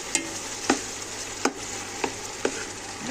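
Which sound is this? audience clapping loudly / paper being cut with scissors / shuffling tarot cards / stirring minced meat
stirring minced meat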